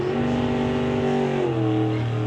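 A 990-class drag race car at a West Coast outlaw drag racing event roars loudly and close with a strong, sustained engine tone that drops sharply in pitch partway through as the throttle stop cuts power.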